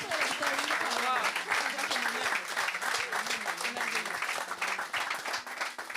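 A congregation at a baptism service applauding and cheering continuously, a dense, loud wash of clapping with raised voices throughout.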